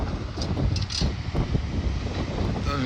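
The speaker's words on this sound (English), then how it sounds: "I hate windiness." Gusty wind buffets the microphone outdoors near a school demolition site, a loud continuous low rumble with fluctuating blasts throughout and no talking.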